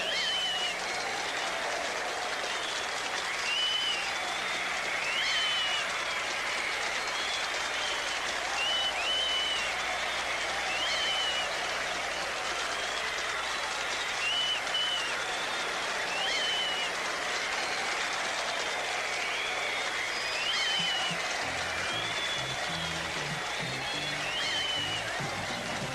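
Sustained, dense applause from a concert audience cheering a performing band on tour, broad and steady throughout at close range, with a few whistles mixed in and no talk.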